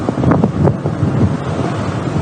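Strong wind buffets the microphone while waves slap and rush against a yacht cruising the Greek islands on a bumpy sea, loud and close with repeated surges of water.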